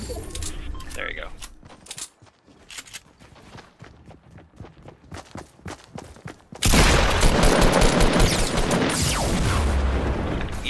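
Gunfire and a rocket blast in a multiplayer shooter game: scattered sharp shots crackle under excited talk, then a loud roaring burst of explosion and heavy fire fills the last few seconds.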